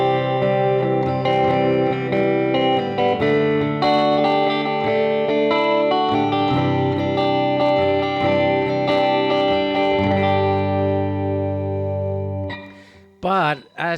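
An electric guitar rings through a Hehku Tramp 5 amplifier with the master turned up, sustained clean chords and single notes with a warm tone that fade out near the end before a few brief final sounds.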